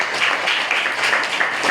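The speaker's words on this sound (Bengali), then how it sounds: "সবাই ঈশানের জন্য একটা হাততালি দাও" A classroom of students claps together for a classmate named Ishan, a dense, steady patter of many hands that holds at an even level throughout.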